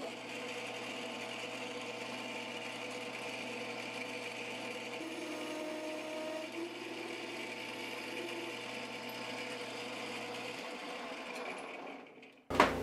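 A lathe cuts a recess into a part for a homemade cup holder, giving a steady, continuous whirring machining hum at close range that holds for about ten seconds before stopping abruptly with a short clunk.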